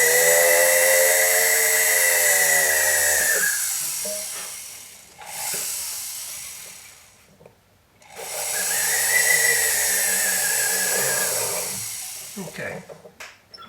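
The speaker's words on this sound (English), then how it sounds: "and drill a hole." A small drill whines at high pitch for several seconds drilling a hole in sterling silver, stops, then whirs again after a pause, close and steady.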